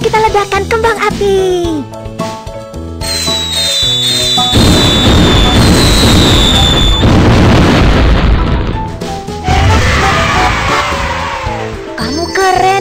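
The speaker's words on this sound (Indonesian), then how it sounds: "Kembang api." Cartoon fireworks burst repeatedly in a Baby Bus children's video game, loud booms and crackling pops mixed with whistling rises and bright game music.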